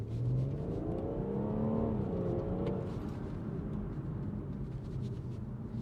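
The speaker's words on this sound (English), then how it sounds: "I'm going to show you what I mean about this car not being very loud" A BMW M140i engine runs at a low, muted rumble, revving up gently then settling, with a soft, subdued exhaust note and no pops.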